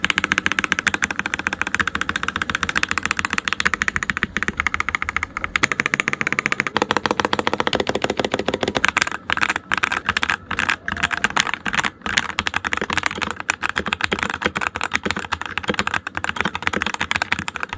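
Default keycaps on a Redragon K617 Fizz keyboard fitted with Graywood V3 switches, typed on steadily with dense, continuous clacking keystrokes that are close and fairly loud, with no talking.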